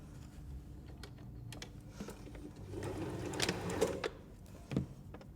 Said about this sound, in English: sewing along the bottom.